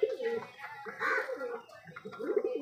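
Several pigeons cooing close by in a coop, soft overlapping throaty coos in uneven bursts, with faint human voices mixed in.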